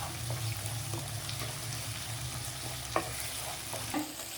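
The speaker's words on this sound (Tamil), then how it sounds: "நீங்கள் இதுவும் தக்காளியும் இஞ்சி பூண்டு இதுவும் வாசனையும் பச்சை வாசனையும் போகிற வரைக்கும் கொஞ்சம் நேரம் வதக்கணும்" Chopped tomato and ginger-garlic paste sauté in a pan for rava kichadi, giving a soft continuous sizzle with faint scraping stirs and a couple of small clicks, fairly quiet and without voices.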